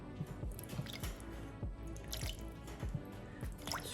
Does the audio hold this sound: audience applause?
no